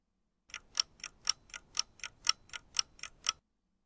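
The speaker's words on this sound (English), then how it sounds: "They hear a clock." Steady clock ticking, about a dozen crisp, evenly spaced ticks at two per second, close and clear against silence.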